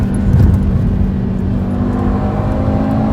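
Audi TT RS engine accelerating while overtaking on a road, a loud, steady in-car roar with a slight rise in pitch and no talk over it.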